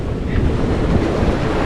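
Ocean waves at sea surge and roar continuously, with heavy wind buffeting the microphone throughout and no pauses.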